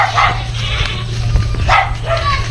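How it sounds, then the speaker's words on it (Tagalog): Several dogs bark in short, loud bursts along a rural path leading home, with a few yips between them and a continuous low hum underneath. "Ang daming aso."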